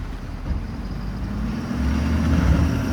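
A 2012 Ford F-250 King Ranch with the 6.7L diesel turns a full circle in 4WD low, giving a steady low engine rumble that swells slightly as it moves, with no talk.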